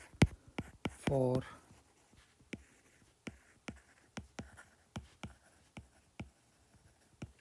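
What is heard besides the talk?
writing on a board while solving a physics problem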